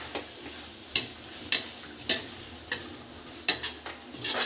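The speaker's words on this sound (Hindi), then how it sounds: "अब इसमें जो हमने ड्राई फ्रूट्स लिए थे इनको मिक्स कर देंगे।" A spoon stirs dry fruits into bottle gourd halwa in a pan, making a series of sharp, close scraping clinks spaced about every half second, with no talking.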